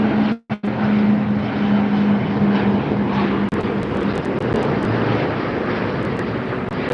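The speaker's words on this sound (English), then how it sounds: "Looks like a Dreamliner coming in there" A Boeing 787 Dreamliner on approach to LAX gives a loud, sustained engine roar with a humming low tone, broken by a couple of short dropouts early on.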